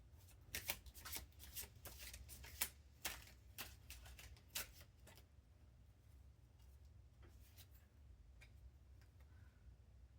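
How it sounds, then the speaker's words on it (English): Tarot cards being shuffled in quick, crisp riffling bursts for several seconds, then a quiet stretch with faint low rumble. "Sorry, I'm having trouble shuffling today for some reason."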